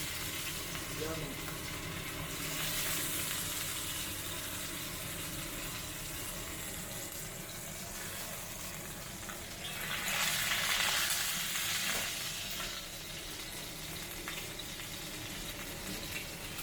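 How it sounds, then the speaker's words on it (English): Meat sears in hot oil in a pan, giving a steady, dense sizzle and crackle throughout that swells louder near the end. "utilizing the oil and the heat of the pan to give a nice sear all around the meat"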